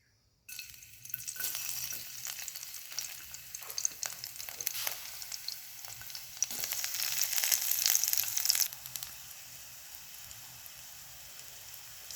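Crushed garlic cloves frying in a little hot coconut oil: a sizzle breaks out after a brief silence, crackles steadily with stirring, swells louder near the end, then settles to a softer, continuous fry.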